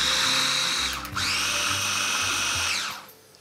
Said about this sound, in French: Alors mixez quand même assez fin